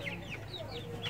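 Chickens cluck and chirp in a village coop, several birds calling in short overlapping bursts at close range over a steady low background hum.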